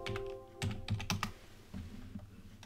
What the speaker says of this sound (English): We'll go ahead and type in FCEL here.